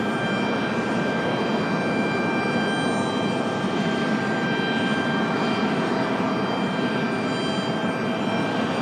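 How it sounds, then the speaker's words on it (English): Alaska Airlines jet departing from Raleigh-Durham airport for Seattle, a steady loud roar of engines at constant power, heard alone and unbroken throughout. "Alaska 572 back to Seattle. Our next departure"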